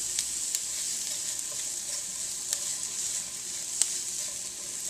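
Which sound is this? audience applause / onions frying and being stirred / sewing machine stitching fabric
onions frying and being stirred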